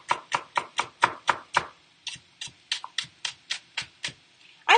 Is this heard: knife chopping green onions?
yes